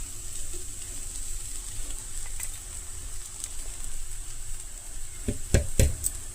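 Bitter gourd pieces fry in a pan with ground spice powder, giving a soft, steady sizzle at low volume, ending in a few sharp knocks of a utensil against the pan.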